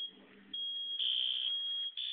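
Smoke detector with a built-in horn sounding during a test, a loud steady high-pitched electronic tone that starts after a brief lead-in and holds almost continuously, with a short dropout near the end.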